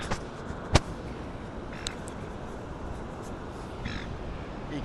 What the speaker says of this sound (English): You can probably hear the seagulls too.